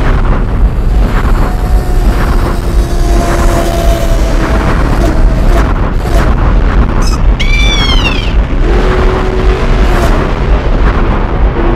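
A toy rocket in a cartoon blasts off with a loud, continuous rumbling roar. Whooshing sweeps and a quick rising zap join the roar, all set over background music.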